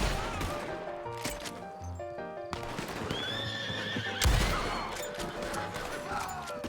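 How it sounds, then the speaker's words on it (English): A horse in Red Dead Redemption 2 whinnies loudly several times amid clip-clopping hooves and sharp crashing game effects, with no talking over it. "Horse!"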